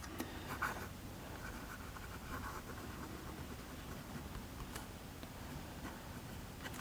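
Faint scratchy strokes of a Pilot Varsity fountain pen with a medium nib writing on paper, a soft continuous rasp with small ticks in a quiet room.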